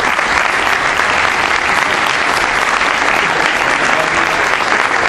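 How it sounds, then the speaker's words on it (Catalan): A seated audience at a ceremony gives sustained, loud applause for a former FC Barcelona player, a dense, even wash of clapping hands that holds steady throughout with no voices rising above it. "demanar un fort aplaudiment per ell"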